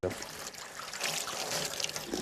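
The Moshchanytsia river flows along its bank, a steady soft trickling and babbling of water heard close and continuous at low volume with no talk over it.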